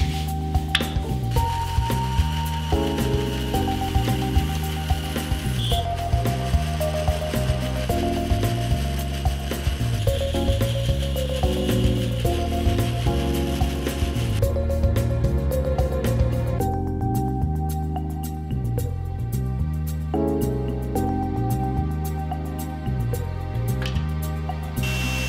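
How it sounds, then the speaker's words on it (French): A band saw runs steadily while cutting a wooden block, its motor humming and rattling loudly throughout with shifting tones as the blade works through the wood. "Et je décide de faire ça à la scie ruban."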